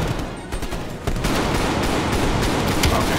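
Loud gunfire in a Call of Duty Cold War campaign fight, with shotgun blasts among a dense run of overlapping shots and rattling bursts that grows heavier after the first second.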